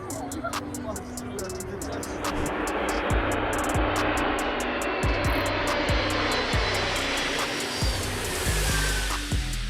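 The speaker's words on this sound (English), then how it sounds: "The AN-225 literally cleans up the sky by cutting through the fog." An Antonov AN-225 aircraft flies through fog, its engines producing a steady, loud broadband roar throughout, with occasional low thumps and a rising rumble near the end.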